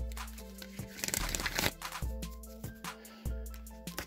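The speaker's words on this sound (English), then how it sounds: "Okay, one more shuffle, then I'm going to cut the deck and draw 3 cards as a final message." Tarot and oracle cards being shuffled and the deck cut, with papery crinkling riffles and sharp card snaps at a steady, close rhythm and no talking.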